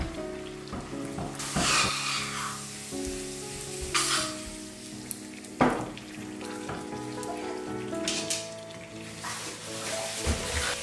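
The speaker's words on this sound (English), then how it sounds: "I'm going to fry puri." Puri frying in hot oil, a steady broadband sizzle with bubbling crackles and a few sharper spatters, close and continuous throughout, with some faint kitchen clatter and no talking.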